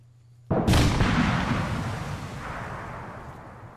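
A single explosive detonation in the military video game ARMA 3 bursts in sharply after a quiet low hum, then a heavy rumbling blast and debris wash slowly fade out over several seconds.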